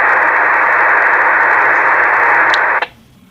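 Analog police radio scrambled by DVP digital voice protection encryption, a loud continuous hiss of static-like noise that cuts off abruptly after about three seconds.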